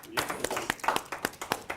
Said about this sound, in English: So I want to give him another round of applause.